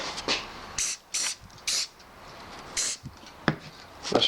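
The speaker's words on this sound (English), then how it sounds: "I spray that with some activator." Activator is sprayed onto CA glue during a woodworking birdhouse ornament build, several short, sharp hissing spritzes in quick succession, close up and alone.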